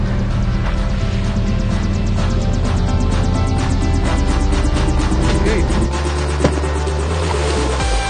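A winch on a fishing boat hauls a massive tuna weighing hundreds of pounds aboard, giving a steady loud mechanical drone with fast ratcheting clicks that runs throughout, and the engine tone drops lower near the end.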